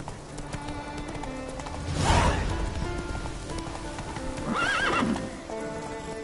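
Hooves of a horse ridden in The Witcher 3: Wild Hunt clop steadily and up close, broken by two loud, drawn-out neighs, one early and one near the end.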